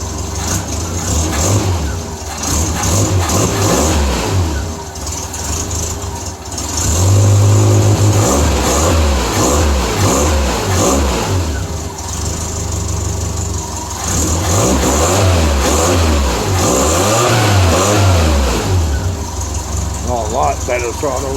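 A Triumph Spitfire 1500 engine fitted with performance parts revs repeatedly from a steady idle, loud and close in a confined space, with rising and falling throttle sweeps and someone talking over it.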